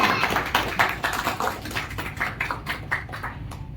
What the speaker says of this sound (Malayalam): ഒരു നിറഞ്ഞ കയ്യടി നമുക്ക് നാരായണന് കൊടുക്കാം